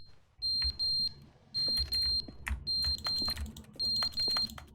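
Smoke or fire alarm beeping indoors in short repeated high bursts, roughly a dozen evenly spaced chirps, mixed with clicking and light handling noises, no speech.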